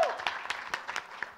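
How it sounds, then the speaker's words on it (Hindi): Scattered audience clapping at a film awards press conference, sparse separate claps with a brief voice at the very start. "पहले आप लोग प्लीज पहले तालियां बजाइए"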